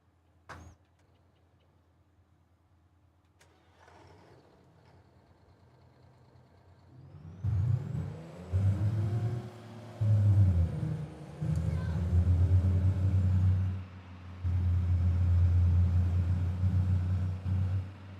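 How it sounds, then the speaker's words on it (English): A truck engine idles quietly at first, then revs up into a loud, deep, uneven rumble that rises and falls in several surges, with a faint voice heard briefly early on. "I love how this truck sounds."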